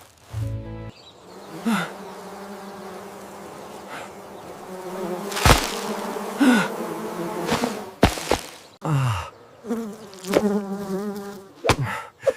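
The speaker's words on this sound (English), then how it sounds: "An active bee." A bee buzzes close by in repeated loud droning bursts that rise and fall as it moves around, with short pauses between passes.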